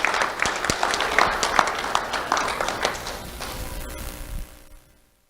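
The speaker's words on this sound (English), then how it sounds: "Let's have a round of applause for Cade Pimason." Applause at a sheriff's office youth awards ceremony as a second grader is honored, a steady patter of many hands clapping close by that swells briefly and then fades out toward the end.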